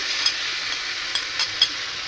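Mushrooms go into pasta frying in a pan, giving a brief, even hiss of frying broken by a few small pops and ticks.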